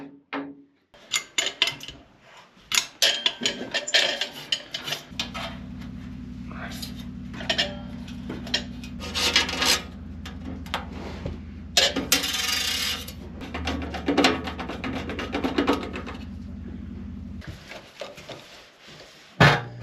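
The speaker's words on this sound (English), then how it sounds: "Properly bolt the legs to the bottom of the stove." The metal legs are bolted onto a Cubic Grizzly mini stove, with repeated metallic clinks, ratcheting and tool clatter in irregular bursts over a low hum.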